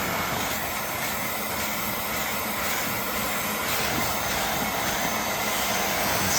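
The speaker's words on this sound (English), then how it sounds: "See all that stuff just getting sucked out of the carpet." A Bissell Little Green portable carpet cleaner sucks liquid and dirt from car carpet with a steady, loud suction whoosh that continues without a break.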